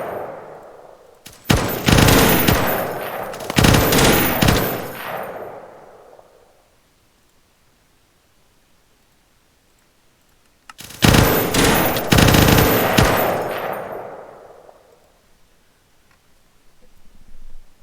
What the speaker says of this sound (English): So I need to kill off the machine gunner to make sure.